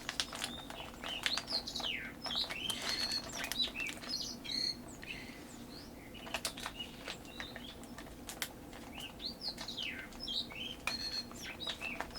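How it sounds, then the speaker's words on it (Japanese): Small live birds chirp and tweet repeatedly nearby, bright quick calls coming in clusters over a quiet indoor hum, with occasional faint taps. "別に効果音ではないです。 勝手に鳴いてるだけですね。 生鳥が。"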